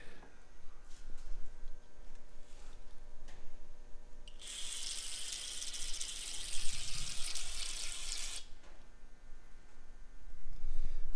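Water rushes out in a loud hiss for about four seconds as a fuel-line compression fitting is back-flushed, between quieter stretches of faint handling noises.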